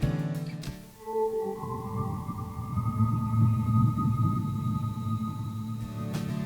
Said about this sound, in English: I had a patch on my Korg Trinity Pro X keyboard called Breath of Life